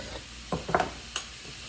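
Mushrooms for a mushroom parmesan risotto sizzle softly in a pan, with a few brief stirring scrapes over a steady low frying hiss.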